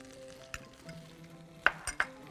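Garlic dropped into a hot pan for seafood paella, a faint sizzle under a few sharp clinks of a utensil against the pan.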